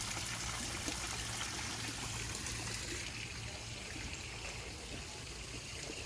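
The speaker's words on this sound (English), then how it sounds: "Do the rest of you like running water sounds?" Water trickling steadily in a garden fountain at an outdoor sugar mill garden, a soft continuous splashing wash that stays even throughout, close and moderately quiet.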